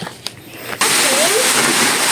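Wet concrete mix pours out and splashes into beam forms at a construction site, a sudden heavy continuous slosh after a few knocks.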